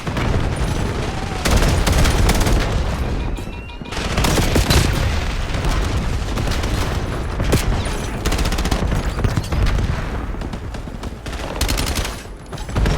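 Repeated grenade blasts and bursts of gunfire from a Call of Duty Black Ops 7 Hardpoint match, loud and dense throughout, with sharp booms standing out against a constant crackle of weapons.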